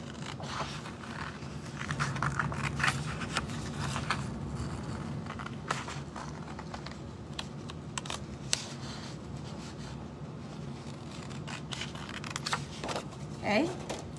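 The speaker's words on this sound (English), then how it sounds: "I'm gonna take my scissors and cut this out" Scissors cut paper for a handmade fold card: a run of quiet snips and scraping paper rustles, close by, with a voice talking softly at times.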